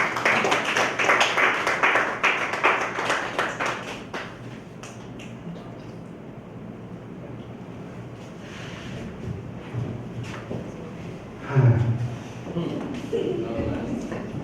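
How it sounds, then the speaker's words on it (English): Brief burst of clapping from a small crowd at a real estate professionals awards ceremony in Ghana at the start, fading out after a few seconds, followed by quieter background noise and voices. "For a round of applause."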